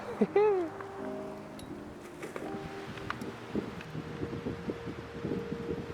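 Wind gusts across a stony beach at sunset, a steady broad rush with flapping and rustling near the microphone, and someone talks over it throughout.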